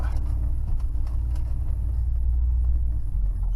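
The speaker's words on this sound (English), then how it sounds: "You can actually feather the clutch out" A 1969 Pontiac Firebird's engine holds a steady, loud low rumble as the clutch is feathered out, the deep drone continuous and close with no talk over it.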